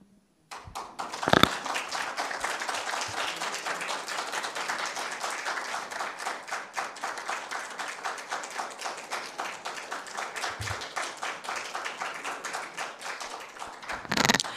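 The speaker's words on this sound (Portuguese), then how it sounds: "Eu agradeço as palmas" An audience at a municipal council chamber session in São Roque claps after a speech, a sharp isolated clap followed by sustained, even applause that runs long and ends with a louder burst.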